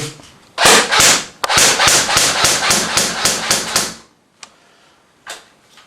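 An H&K G36C airsoft rifle (JG 608) fires about a dozen sharp, loud snapping single shots in quick regular succession, then a couple of isolated clicks after a pause.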